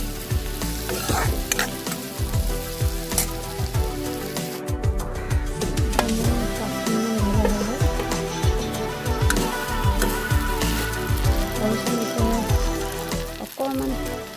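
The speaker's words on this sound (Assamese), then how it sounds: "5 মিনিটমান ভাজি ল'ম।" Cut potatoes fry in a pan for a fish curry, giving a steady, loud sizzle that runs throughout and is broken by repeated scraping knocks of stirring, with no talking.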